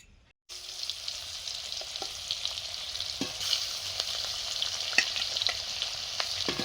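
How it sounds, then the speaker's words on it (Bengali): Fish fries in a pan in a home kitchen, a continuous close crackling sizzle with scattered sharper pops, starting abruptly after a brief moment of quiet. "মাছ ভাজা শুরু করে দিয়েছি।"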